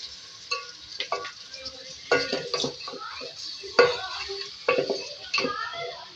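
Chicken pieces fry with ginger-garlic paste in a pan for bhuna aloo chicken: a steady close sizzle runs throughout, punctuated by several loud scraping stirs of a spoon against the pan, with no voices.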